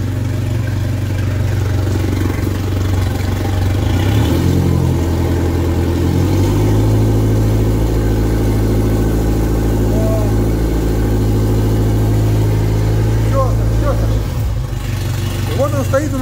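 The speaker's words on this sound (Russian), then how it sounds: "мотор молотит, периодически мы подкидываем оборотов" A water-jet boat motor on a Solar 555 Super Jet or Solar 470 Super Jet RIB idles steadily and loudly with a low, constant drone, rising briefly in pitch as it is revved periodically.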